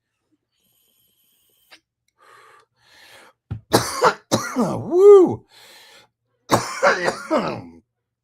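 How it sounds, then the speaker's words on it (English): A person coughs and clears their throat several times in harsh, rasping bursts, close and loud, with a short exclaimed sound among them. "you need a cough drop now, man. That's a good cough, bro."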